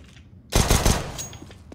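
A flashbang grenade pops on de_cache in Counter-Strike, arriving as a sudden loud burst after near silence and followed by a ringing, crackling tail that fades within a second.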